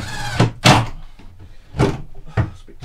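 Damp wooden kitchen cupboard doors in a campervan are refitted and shut, giving a series of four solid knocks and thuds, close and loud, with scraping in between.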